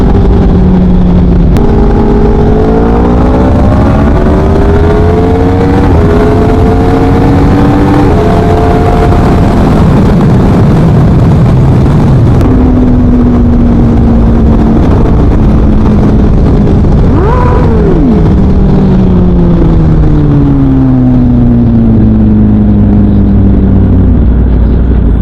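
Yamaha R1 sport motorcycle fitted with a Leo Vince exhaust, loud and close throughout a ride, engine revving up and down through gears with sharp rising and falling pitch sweeps.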